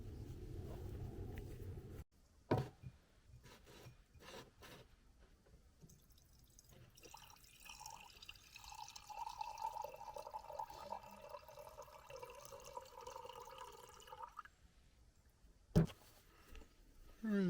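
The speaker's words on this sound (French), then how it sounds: "je peux sortir le bidon, j'ai un robinet sous le bidon" Water trickles and drips from a small tap under a jerrycan inside a van, a faint, close running stream with scattered drips and a few handling knocks.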